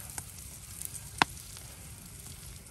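Big Vidalia onion cooking over a campfire in cold weather, a faint, soft sizzle with occasional pops and one sharp crackle, no voices.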